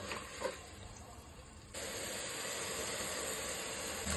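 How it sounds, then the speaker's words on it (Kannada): Masala paste for chicken biryani hits a hot pan and breaks into a steady, loud sizzling hiss that starts partway through after quieter background noise and continues to the end. "ಇದಕ್ಕೆ ಪೇಸ್ಟ್ ಹಾಕೊಳ್ಳೋಣ. ಇದನ್ನ ಚೆನ್ನಾಗಿ ಫ್ರೈ ಮಾಡಿ."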